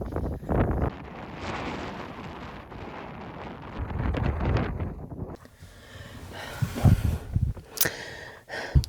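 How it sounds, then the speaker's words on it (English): Strong outdoor wind roars and buffets the microphone in loud, uneven gusts, easing briefly and then surging again with sharp blasts toward the end. "it's really flippin' windy out there"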